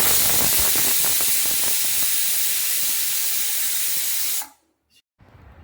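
A pressure cooker on the stove, cooking egg biryani, lets out one long, loud, steady hiss of escaping steam, which cuts off abruptly near the end and leaves a brief hush followed by soft room noise.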